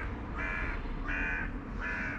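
Crows cawing at an outdoor bird feeding spot near a church, three drawn-out harsh caws spaced evenly over steady low background rumble, moderately loud and fairly close, no talking.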